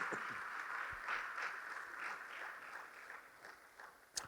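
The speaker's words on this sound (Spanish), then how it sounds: "Démosle fuertes palmas al Señor" Worshippers in a church service clap and applaud for the Lord, a soft, diffuse patter of hands that continues at an even, fairly faint level throughout.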